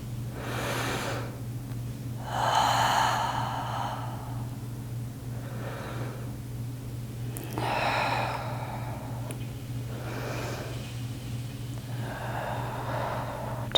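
Deep, slow breathing during a yoga practice, with long audible inhales and sighing exhales repeating in a steady cycle close to the microphone, over a constant low hum and without talk.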